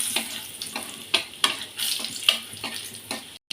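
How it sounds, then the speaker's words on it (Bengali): Garlic and black cumin fry in oil with a close, moderate sizzle punctuated by rhythmic stirring scrapes and pops roughly every half second, briefly cut off near the end, no talking. "রসুনটা ভাজা হয়ে গেছে কালো জিরেও ভাজা হয়ে গেছে"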